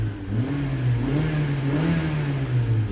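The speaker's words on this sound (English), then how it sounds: "rev up your engine" A 2012–2015 ninth-generation Honda Civic with the R18 engine revs steadily, a loud continuous engine drone rising and falling slightly in pitch over three seconds, close by with no talking.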